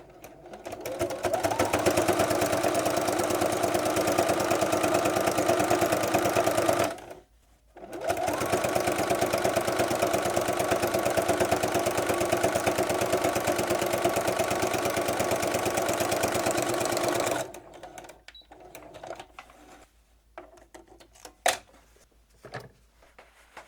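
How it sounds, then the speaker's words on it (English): A sewing machine stitches patchwork fabric scraps together for a stocking: two long, steady runs of rapid mechanical chatter with a short pause between, followed by quiet handling noises. "I'll go ahead and sew that across."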